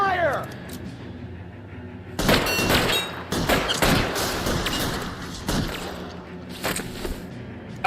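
Gunfire in the crime game L.A. Noire, a tense exchange of several loud sharp shots in uneven bursts with booming echoes, spread across the firefight and mixed with brief voices.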